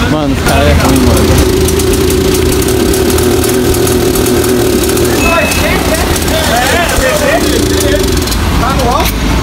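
A 2022 Honda Titan motorcycle engine with a fault runs steadily and loudly close by, idling and briefly revving, with people talking over it throughout.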